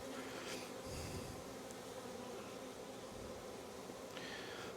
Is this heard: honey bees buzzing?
yes